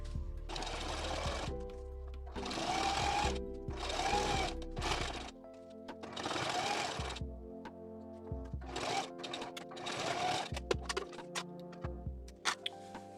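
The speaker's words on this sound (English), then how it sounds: "I'm gonna sew these two sides together." A sewing machine stitches two sides of fabric together in several bursts of rapid mechanical whirring, separated by short pauses and light clicks, close and steady with no talking.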